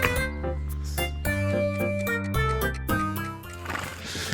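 Horses at a horse farm neigh and whinny repeatedly, loud and close, in long tonal calls that follow one after another with short gaps.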